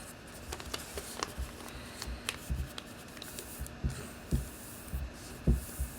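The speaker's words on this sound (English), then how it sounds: "So you're going to fold it in half." Soft, close paper rustles and light taps come in a loose rhythm as a sheet of paper is folded in half for a craft, quiet with no talking.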